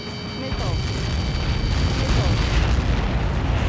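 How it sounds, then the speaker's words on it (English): A huge Helios projectile impact explosion in the Ace Combat 7 video game, a deep sustained rumbling roar of the blast filling the whole stretch, loud and continuous with faint whooshing above, no voices over it. "How many got caught in that explosion?"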